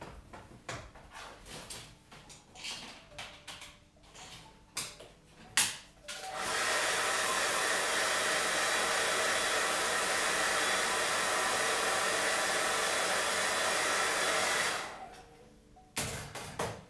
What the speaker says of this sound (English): I'm just going to run over and use the hairdryer and blow dry it off